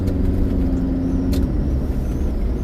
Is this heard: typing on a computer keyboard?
no